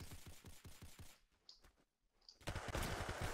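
Gunfire in the Roblox game Arsenal, dense rapid shots rattling loudly for about a second, a brief lull with a couple of faint clicks, then another loud burst of firing at the end.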